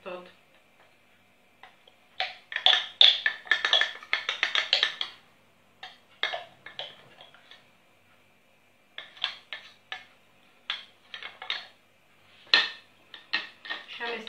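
Spoon scraping and clinking in a dish while yogurt with walnuts and flaxseed is mixed, quiet bursts of clattering strokes separated by short pauses.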